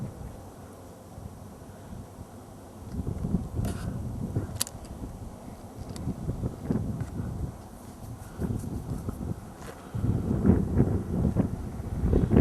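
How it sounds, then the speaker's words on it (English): Gusty wind at Garden of the Gods buffets the microphone in low, rumbling bursts, strengthening and easing over several seconds with no voices. "Kind of windy day, you can probably hear."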